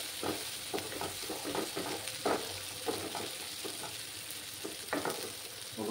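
Ground cumin and Kashmiri chilli powder sauté in a hot pan for a Bengali katla fish curry, giving a steady close sizzle broken by repeated spatula scrapes and stirring knocks, with no voices.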